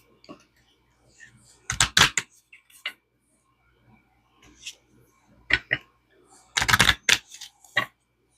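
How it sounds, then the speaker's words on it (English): A deck of cards being shuffled at a craft table, two loud riffling bursts a few seconds apart with scattered taps and card handling in between. "it's time to shuffle the cards."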